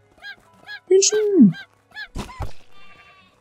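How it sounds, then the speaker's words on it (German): A chicken in the game Craftopia gives a quick series of short clucks and a drawn-out squawk, loud and close, followed by a couple of sharp game effects. "Es gackert selbst noch im Tod."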